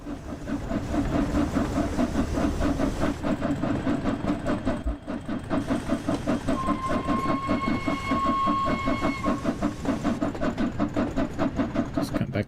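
In the Just Trains West Coast Main Line simulator, a locomotive's large ejector hisses loudly and constantly over the rumble and rhythmic clatter of the moving train, with a brief whistle-like tone partway through.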